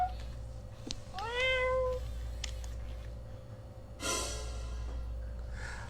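A young female cat meows once with a rising, drawn-out call, close and clear over a steady low hum, followed by a brief rustle and a short breathy noise near the end.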